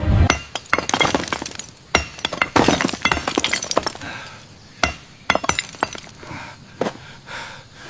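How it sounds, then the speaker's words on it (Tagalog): Heavy hammer blows on a solid stone door, a series of sharp, loud cracking impacts at irregular intervals with ringing, clattering debris between strikes. "Baka kaya rang basagin ng malaking martilyo."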